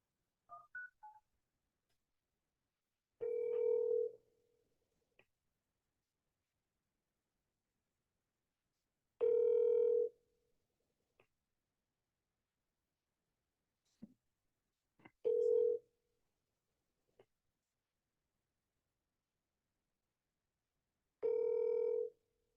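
A telephone call is dialed with a quick burst of keypad tones, then four long ringback tones sound at even intervals with silence between them.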